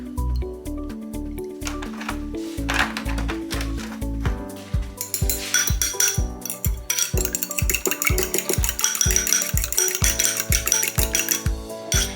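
One egg beaten with about a tablespoon of milk for an egg wash on cinnamon swirl bread, rapid rhythmic whisk clicks against a bowl, close and steady over background music.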